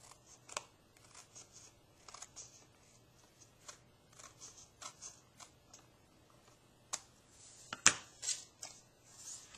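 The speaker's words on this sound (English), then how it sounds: "I'm going to have to trim off just a bit here at the top." Scissors trim a handmade paper greeting card, giving faint, intermittent snips and rustles against a quiet room, with one sharper click near the end.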